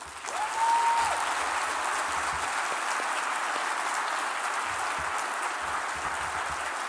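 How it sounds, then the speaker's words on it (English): Sustained applause from a large summit audience honouring an organisation's founder, a broad, steady roar of clapping that holds evenly throughout, with a brief whistle near the start. "Please join me in giving a nice round of applause one more time for our founder,"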